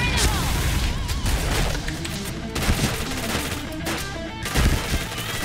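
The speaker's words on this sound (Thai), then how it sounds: "เฮ้ยปาระเบิดอะไร" Dense rattling gunfire and explosive crashes fill an online shooter battle, with a grenade blast among the continuous loud, cluttered game noise and no pauses.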